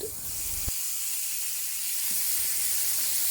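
Beef stir-frying in oil in a hot pan for Korean japchae, a steady close sizzle and hiss running throughout with a sharp utensil tap near the start and soft scraping later.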